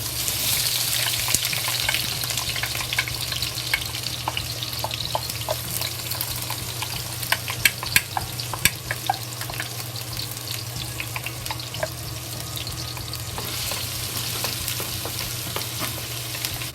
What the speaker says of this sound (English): And slowly fry it until the smell release out, the good smell, the ginger, garlic, and onion smell release out.